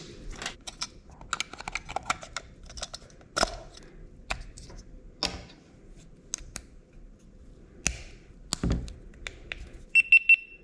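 A GoPro Hero 10 camera powering on for the first time, sharp clicks and taps of handling, then a short run of high electronic start-up beeps near the end, close and quiet with no speech.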